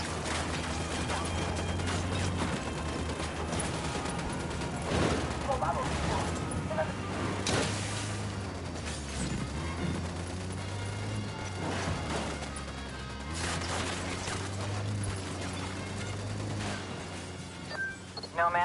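Gunfire in the video game Ghost Recon Wildlands, dense overlapping shots and crashing impacts in a continuous firefight, heard over game music with voices talking at times.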